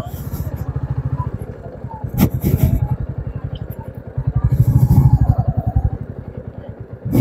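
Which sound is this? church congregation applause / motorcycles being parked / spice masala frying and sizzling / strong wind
motorcycles being parked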